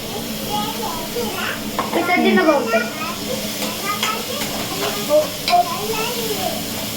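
Pasta sizzles in a pan on a home stove while a spoon stirs it, a soft steady hiss with scraping strokes, mostly under children's lively chatter and talk.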